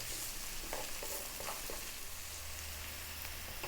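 Finely chopped onion fries over high heat with a constant soft sizzle and faint stirring scrapes, fairly quiet and without voices.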